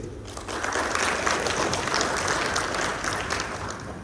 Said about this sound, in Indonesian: Kita aplaus kepada yang menciptakan lagu-lagu itu ya